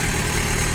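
Mitsubishi D2350 engine running at a steady, even idle, a continuous close mechanical drone with low-end rumble and no voices.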